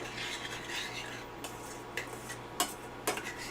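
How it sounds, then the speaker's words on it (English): A spoon stirring salsa, soft scraping and rubbing against the bowl with a few light clinks and taps, close and quiet with no speech. "We're going to give this a stir."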